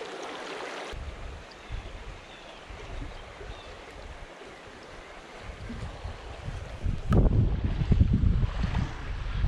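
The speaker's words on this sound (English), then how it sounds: "this would be just a great day if it wasn't for the stupid wind that's going on out here right now" Gusty wind buffets the microphone beside a Wisconsin brook trout stream, a steady low roar with a louder surge toward the end, no voices heard.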